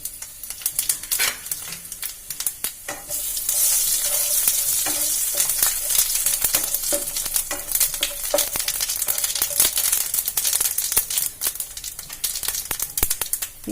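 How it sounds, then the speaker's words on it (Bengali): Two dried red chillies and half a spoon of whole cumin crackling in three spoons of hot oil, a loud, dense sizzle with sharp pops and spatters throughout. "তেলে 2টো শুকনো লঙ্কা, হাফ চামচ গোটা জিরে ফোড়ন দিচ্ছি।"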